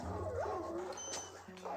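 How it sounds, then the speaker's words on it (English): Dogs in Age of Empires 4 whimper and yip in short, rising whines, begging for a stick a villager holds, heard fairly close amid light game ambience and a brief background voice. "The dogs are wanting that stick she has in her hand."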